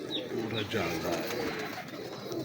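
Soft, low cooing from large-feathered pigeons rises and falls in short repeated phrases nearby, heard under a man's speech.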